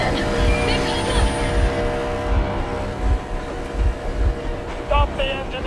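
A train engine runs in the video game Metro Exodus, a low rhythmic chugging rumble that continues under voices talking.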